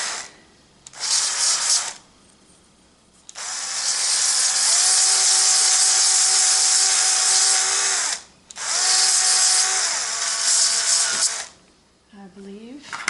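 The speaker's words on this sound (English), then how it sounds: "I have different speeds on my drill, so I can control it." An electric drill with variable speed runs in long bursts, used while assembling dollhouse log cabin furniture, its whine rising and falling between short pauses, loud and close.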